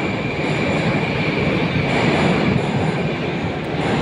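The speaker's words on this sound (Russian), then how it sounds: "Наш поезд уже подъезжает." A Moscow metro train arriving at the station rumbles loudly and steadily close by, a constant roar of wheels on rails with a faint high whine on top.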